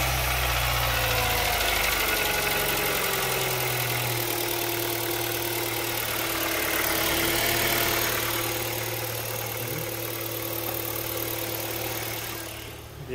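A used car's engine idles steadily during an exhaust check, a low, even hum with a faint rhythmic vibration that holds for several seconds and then drops away as it is switched off.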